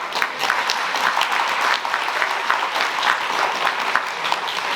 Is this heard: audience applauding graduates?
yes